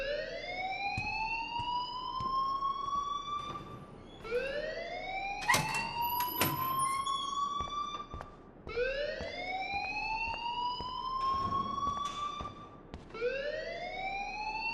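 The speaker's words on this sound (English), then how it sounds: "please turn off that alarm since that's your job." Alarm blaring in the video game Life is Strange, a loud rising electronic siren that sweeps upward over and over in a steady cycle, with a few sharp clanks mixed in and no talking.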